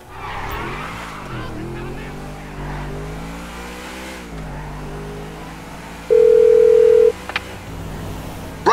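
A phone ringing in Grand Theft Auto V, a single steady electronic tone about one second long over a car engine revving and shifting, with voices talking.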